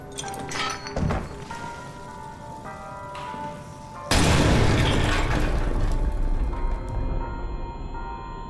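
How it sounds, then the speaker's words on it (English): Grenade explosion busting a lock in Amnesia: The Bunker, a single sudden, loud, close blast that follows a few dull knocks and then rolls into a long, heavy, crackling tail. "I had to use the grenade. I think that was able to bust the lock off."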